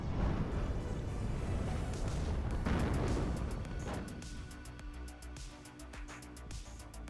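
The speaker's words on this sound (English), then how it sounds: "Oh, 3 missiles at once." Missile launches and explosions in the real-time strategy game WARNO, a dense rumbling roar of launches and blasts that fades into quieter crackling and scattered sharp clicks, with no talk.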